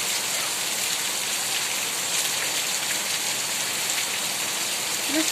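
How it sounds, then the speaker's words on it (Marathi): Heavy rain pours down steadily, a loud, dense hiss of water hitting surfaces with no pauses. "पाऊसच पाऊस जोरात मोठा आहे"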